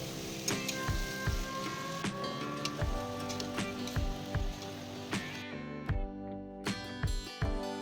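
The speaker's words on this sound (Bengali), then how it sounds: "10-12 মিনিট মাংসটা ভালোভাবে কষাবো।" Chicken pieces being sautéed in a pan for a spicy chicken potato curry, a continuous crackling sizzle broken by repeated spatula scrapes and knocks against the pan, close up.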